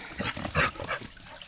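A dog out on a hike makes excited, playful yips and whimpering barks in a quick burst of several short calls, close by and loud, then trails off into quieter background noise.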